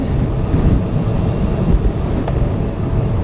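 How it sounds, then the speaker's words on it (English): Heavy wind roars into the microphone of a cyclist commuting in sleet and rain, a loud steady low buffeting with gusty swells and no talking. "That stop sign is it's pretty windy."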